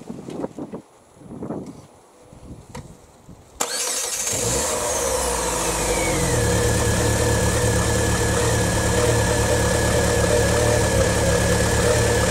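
A Vauxhall Astra engine, rebuilt and run with no coolant in the system, cranks and catches after a few quiet seconds of clicks and faint noises, then settles into a loud, steady close-up idle with a slight rising whine.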